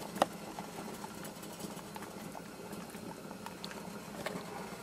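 Hot water at a rolling boil with a Samsung Galaxy S5 phone sunk in it, giving a steady close bubbling and patter with small pops throughout.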